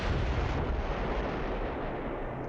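Mortar fire in the Close Combat III World War II strategy game, a bridgehead battle on the Vistula, comes through as a dense, heavy rumble of blasts that rolls on without a break for the whole stretch.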